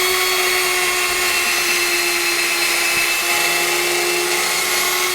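A power drill boring pilot holes into wood for screws on a DIY platform bed, a steady continuous motor whine holding an even pitch throughout, close and fairly loud with no talk.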